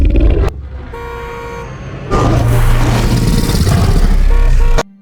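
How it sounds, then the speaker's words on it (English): A car horn honks in sharp blasts, with a short toot followed by a longer, sustained loud honk against traffic-like engine noise. "The sound of Wesley's car horn,"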